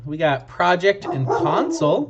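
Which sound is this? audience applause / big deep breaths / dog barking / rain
dog barking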